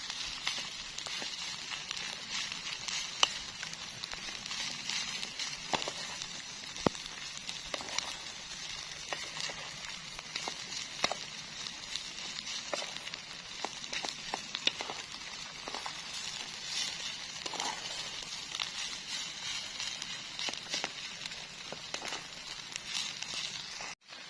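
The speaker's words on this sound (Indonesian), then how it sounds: "Ya, nambah terus hujannya." Heavy rain pattering steadily on a camping tent during an overnight solo camp, a dense continuous hiss with scattered sharper drops, quiet and even throughout with no talk.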